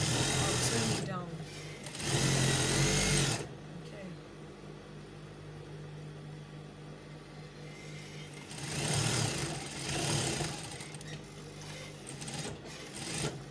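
A sewing machine stitches the seams of a cowl kaftan dress in short bursts of motor whir, the loudest runs near the start and again toward the end, with quieter handling between.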